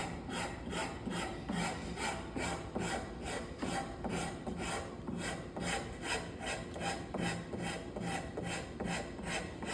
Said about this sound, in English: sort of like a skewed cut with the rasp